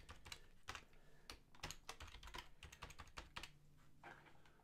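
Rapid typing on a computer keyboard while entering a password during Windows Server 2019 setup, with irregular bursts of close, crisp key clicks and a few short pauses, no voices.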